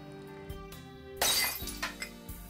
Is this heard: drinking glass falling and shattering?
yes